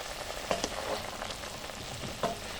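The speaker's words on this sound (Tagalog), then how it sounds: "At hahaluin lang natin." Chicken adobo with hard-boiled eggs sizzles steadily in a pan while a utensil stirs it, with soft scraping clinks scattered through the constant close frying hiss.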